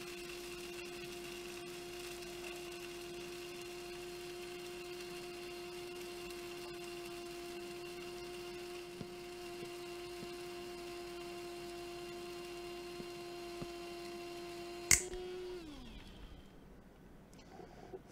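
A coffee machine running in Barista Simulator: a steady mechanical hum with a constant tonal whine holds for about fifteen seconds, then a sharp click and the tone winds down and fades.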